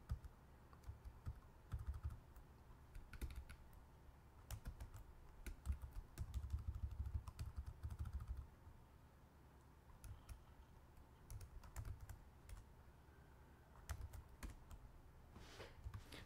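Typing on a computer keyboard, with irregular bursts of quiet, close key clicks and a few pauses between them, heard alone with no talk.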